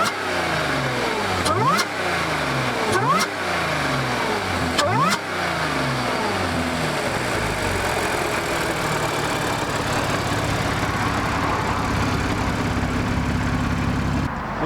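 A parked Audi S4 with a V6T supercharged engine is revved hard several times, each blip rising and falling sharply in pitch, then settles into a loud sustained high-rev drone, close and with no talking.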